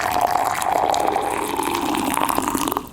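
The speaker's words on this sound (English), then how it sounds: "That first sound, that's the hot water being poured." Hot water poured in a steady stream for about three seconds, a continuous splashing rush with small bright drips, fairly close and alone.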